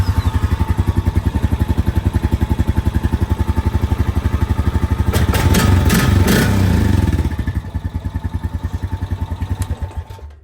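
A 2013 Honda Rancher 420 ATV engine running at a steady, fast-pulsing idle, loud and close, briefly revving up into a rougher, denser roar before settling back to idle and cutting off.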